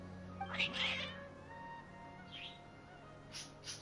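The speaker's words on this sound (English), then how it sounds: "Your cats seem pretty worked up." Agitated cats meow in Genshin Impact, with two or three faint, drawn-out cries spread over a few seconds against a quiet game background with soft tones.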